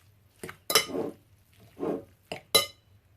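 Squid stuffing being mixed in a bowl produces a few sharp clinks of utensils against the bowl between softer, wetter squelching stirs, close and fairly quiet.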